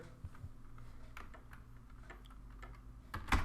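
Quiet computer keyboard typing, a few scattered soft key clicks over a low room hum, with one louder clack near the end.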